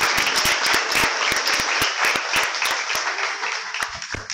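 Audience applause at a graduation ceremony, a dense steady wash of many hands clapping close by for the whole stretch, with a few sharper individual claps standing out.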